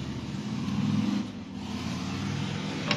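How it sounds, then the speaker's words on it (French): Motorcycles rev outside in Clermont-Ferrand, heard from inside an open house as a fairly distant engine drone. It swells in the first second, then settles into a sustained rumble. "on entend quand il y a des jeunes en moto qui s'amusent à faire les andouilles"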